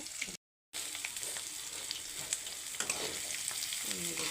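Paneer pieces fry in hot oil in a pan, giving a steady dense crackling sizzle with small pops, interrupted by one brief silent gap near the start.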